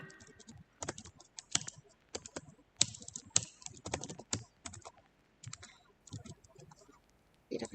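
Typing on a computer keyboard while entering text in MS Word gives irregular bursts of crisp key clicks, close and fairly quiet, with short pauses between clusters and no speech.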